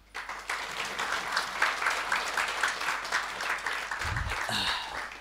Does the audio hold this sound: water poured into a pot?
no